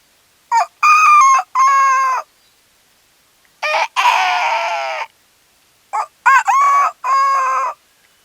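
A voice imitates a rooster crowing, three loud drawn-out calls separated by silent pauses, clear and close, at a home for blind people in Kizhuparamba.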